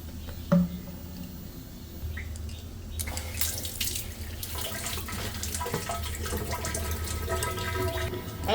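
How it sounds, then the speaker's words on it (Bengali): A little water poured into a milk bottle to rinse it, with faint splashing and trickling close by and some clattering as the bottle is handled. "একদম অল্প একটু জল দিয়ে দিচ্ছি বোতলটা ধুয়ে।"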